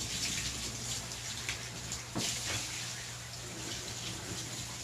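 Running water splashes and trickles at moderate volume as a dog is rinsed in a bath, a steady faucet-like flow with a few brief splashes, and no talking.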